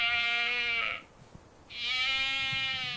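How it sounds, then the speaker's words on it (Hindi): Awassi sheep bleat in two long, loud, wavering calls, close by, separated by a brief quiet gap with no talking. "हम अवासी भेड़ों की तलाश में हैं,"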